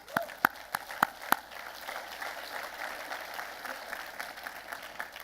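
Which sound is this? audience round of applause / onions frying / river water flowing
audience round of applause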